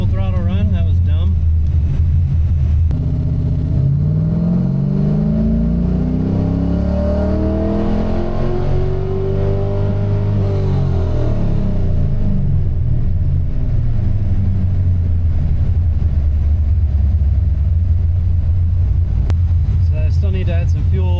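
LS-swapped Mazda RX7 on a Holley Terminator X tuning run: a loud V8 drone climbs steadily in pitch, levels off and winds back down, constant and close throughout, with a voice speaking over it.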